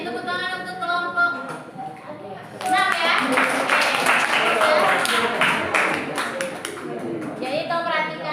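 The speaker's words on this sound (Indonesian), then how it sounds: "jadi tepuk tangan untuk kelompok" Classroom applause for a student group, a dense burst of clapping from many hands that swells mid-clip and fades, with a teacher speaking before and after.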